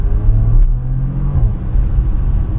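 A Porsche Macan Turbo engine pulls with a steady, close rising hum that then eases into a lower rumble as the car accelerates, heard from inside the cabin with no talking.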